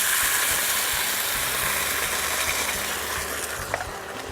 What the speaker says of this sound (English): it's coming to a boil pretty quickly, and that's what I want